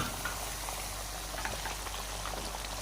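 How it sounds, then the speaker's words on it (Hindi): Cauliflower koftas dropped into a simmering masala gravy, a steady close bubbling and gentle sizzle with soft pops throughout, no voices. "तो इसमें अब हम कोफ्ते डालेंगे"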